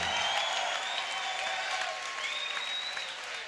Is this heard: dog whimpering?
no